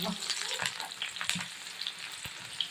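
Previously cooked shredded chicken frying in very hot oil, a steady bright sizzle with small crackles and spits throughout, close and fairly quiet.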